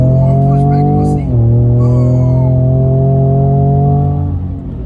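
A 2019 Ford Raptor pickup's engine revs hard under heavy acceleration, a loud droning roar with rising tones that drop at a gear shift and climb again, with occupants' voices over it.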